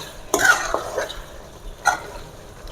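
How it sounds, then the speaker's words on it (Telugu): Washed gongura leaves being stirred into chicken curry frying in a pan: two scraping, sizzling bursts of stirring over a low, steady background. "ఇప్పుడు ఒకసారి కలుపుకొని ఇందాక మనం కడిగి పెట్టుకున్న గోంగూర వేసేసుకుందాం"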